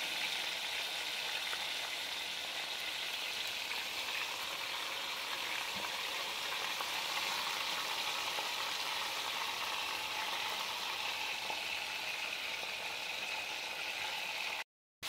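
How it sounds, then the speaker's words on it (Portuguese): Steady, continuous sizzling of pork loin searing in a pan, crackling evenly throughout without any talking. "Aí eu vou fritando e vou virando, vou fritando e vou virando"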